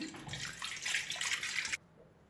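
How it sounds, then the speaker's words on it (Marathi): Water poured from a tap into a cooking pot while making homemade butter, a steady close splashing stream lasting under two seconds, then stopping abruptly into quiet. "इथे आपण घेतलं एक पातेलं त्या पातेल्यात आपण टाकूया पाणी"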